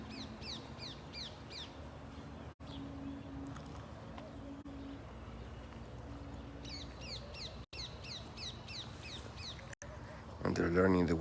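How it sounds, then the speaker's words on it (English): Repeated honking and chattering calls from Egyptian goose goslings, a busy flock close by, with a louder burst of calling near the end. "And here we have 4 new goslings."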